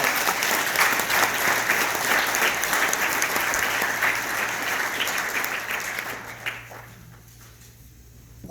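A crowd gathered for a Veterans Day speech claps steadily and loudly for several seconds, then the applause tapers off into quiet near the end.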